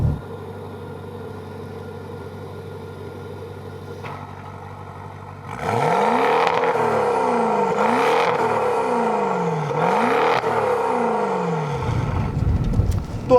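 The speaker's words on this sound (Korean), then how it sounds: "특히나 스포츠 모드에 놨을 때는 이 배기 사운드 자체가 조금 더 강렬해지는데요" A 2018 Maserati Quattroporte GTS in sport mode idles with a low, even exhaust burble, then its exhaust barks through four sharp, loud revs in a row, each rising and falling back before the engine settles.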